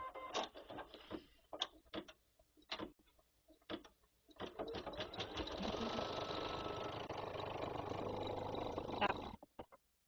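A Baby Lock sewing machine stitches down quilt batting in a steady, continuous whir for several seconds, preceded by scattered clicks and short bursts as it starts up, then stops abruptly.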